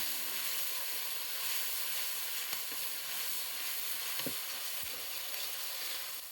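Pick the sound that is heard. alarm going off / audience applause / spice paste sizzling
spice paste sizzling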